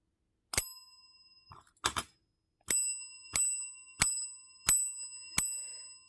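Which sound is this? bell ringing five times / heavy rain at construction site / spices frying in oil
bell ringing five times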